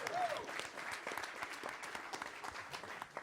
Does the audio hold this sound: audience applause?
yes